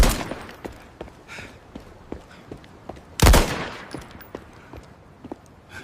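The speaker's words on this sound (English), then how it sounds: "Gunshot." A sharp, loud AI-generated gunshot cracks out about midway, standing out against faint scattered clicks and taps.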